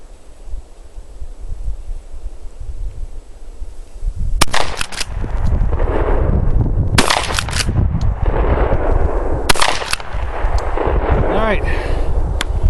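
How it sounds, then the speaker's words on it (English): A Benelli shotgun fires slugs outdoors: several loud, sharp blasts spaced a few seconds apart, each with a brief echoing tail, over a steady windy background. "So let's try the Benelli and then we'll go down and see how each one of these puppies are shooting."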